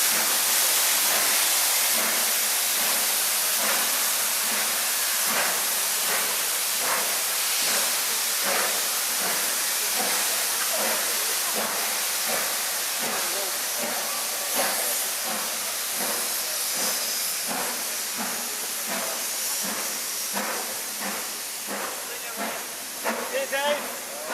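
Steam locomotive 45305 pulls away bound for Carlisle with loud continuous hissing and a steady chuffing rhythm of exhaust beats, close by, with faint voices in the background.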